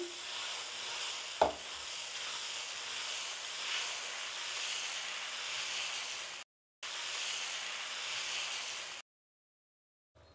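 Dosa batter sizzles on a hot pan in a home kitchen, a steady soft hiss with one sharp tap of a utensil, briefly cutting out twice near the end.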